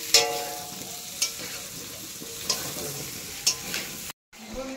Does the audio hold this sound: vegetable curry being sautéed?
yes